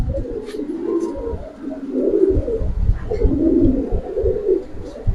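Giribaz pigeons coo repeatedly nearby, with soft, warbling low calls rising and falling over a muffled background of rustling and movement.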